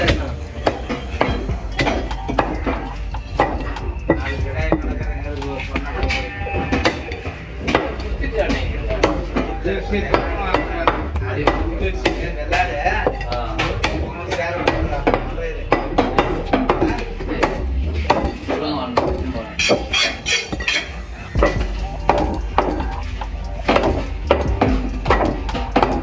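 A cleaver hacks through a goat head in steady, rapid, loud chops that continue throughout, with voices talking underneath.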